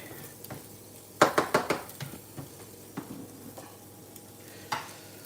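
A spatula scrapes and knocks against a frying pan as egg and shrimp for fried rice are pushed aside, with a quick cluster of taps over a soft sizzle, then a few scattered scrapes.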